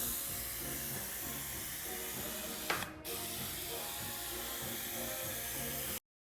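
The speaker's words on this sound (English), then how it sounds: "And now it's time to spray." A paint spray gun applies coating over a car body corner reshaped with hard wax. It gives a steady, close, continuous hiss with a brief break partway through, then stops abruptly.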